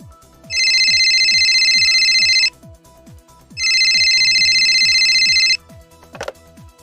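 A telephone rings for a caller phoning into a Radio Tashan general-knowledge quiz show, sounding as two long, loud electronic trills separated by a short pause, followed by a brief faint click.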